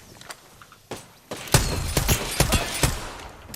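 Gunfire in an Apex Legends match at a competitive LAN event, starting with a few sparse shots and then building into a loud, dense burst of rapid fire over the last two seconds.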